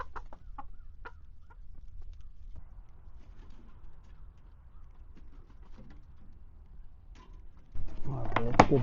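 Backyard ranch chickens cluck and coo softly in scattered short calls over a low rumble, with a voice briefly present and a louder rustling, clattering burst near the end.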